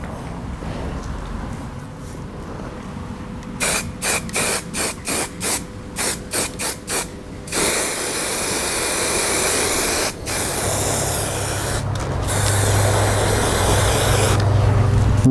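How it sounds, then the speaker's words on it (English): Zinc paint is sprayed onto a rusty old vehicle's rear cabin cross member: a string of short aerosol bursts followed by long continuous close hissing sprays, with no talking. "I'm going to be painting it with zinc paint"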